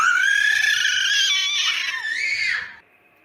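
A young girl at her eighth birthday lets out a loud, sustained high-pitched scream lasting nearly three seconds, wavering and bending in pitch before cutting off abruptly into quiet.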